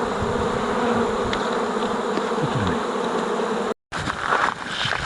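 Honey bees swarm around a hive during a mountain honey harvest, a dense, steady buzz filling the whole clip at close range, broken only by a brief dropout near the end.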